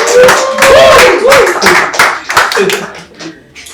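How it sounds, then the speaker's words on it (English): Audience applause breaks out at a fitness training session, a dense patter of many hands clapping close by, with a voice talking over it before the clapping fades. "Please let's give a round of applause."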